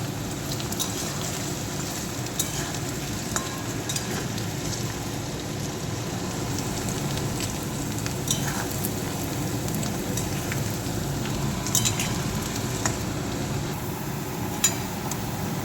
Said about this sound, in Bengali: আলুগুলো লাল লালগুলো ভেজে দেবো